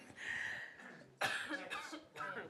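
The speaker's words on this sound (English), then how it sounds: "Well, I cough." A single sharp cough at a panel discussion on insurance and investment in Ukraine, close and loud, following a stretch of talking.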